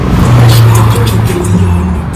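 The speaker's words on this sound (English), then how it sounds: "Oh, there goes one of those cars." A car passes along a busy tourist street near Clifton Hill in Niagara Falls, its loud close engine and tire roar swelling and fading over about two seconds.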